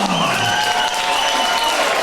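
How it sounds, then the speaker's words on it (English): Spectators at an amateur boxing club show applaud a fighter, a brief, steady burst of dense clapping that fills the hall, with a few crowd voices underneath. "Ladies and gentlemen, can you applause one for his opponent, Riley Greta?"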